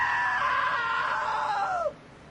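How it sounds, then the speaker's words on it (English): A loud, drawn-out scream in the video game What Remains of Edith Finch holds a high pitch for nearly two seconds, then bends downward and cuts off abruptly. "Now that was a great scream."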